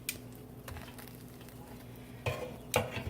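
Buffalo wings get turned over in an air fryer basket over a faint steady sizzle, with two short, sharp clatters of the basket near the end.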